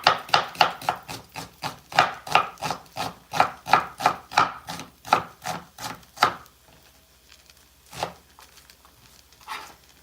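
An onion is chopped on a cutting board with a knife in quick, evenly spaced close strikes, about twenty in a row, followed by a few scattered taps after a pause.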